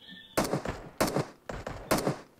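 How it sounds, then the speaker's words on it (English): Four short bursts of automatic gunfire in PUBG, spaced about half a second apart, sharp and fairly close, with no talk over them. "Someone's shooting."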